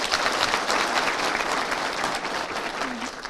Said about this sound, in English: Can you just give yourself a round of applause?